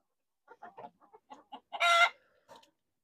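Hens in a farmyard cluck in short, close, choppy bursts, and one louder, drawn-out squawk rises in the middle before a few more clucks follow.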